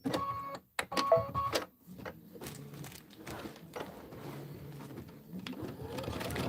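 A sewing machine sews a tack-down stitch on a quilt tile in short stitching bursts, followed by softer steady mechanical running with small clicks.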